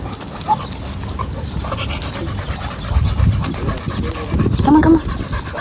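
A dog panting in quick breathy bursts with a few thin whimpers, close by, while people talk over it in the background.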